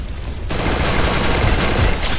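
AWM sniper rifle gunfire from a shooter video game bursts in after a brief quiet moment, a loud, dense volley of shots and crackling impacts filling the rest of the short stretch.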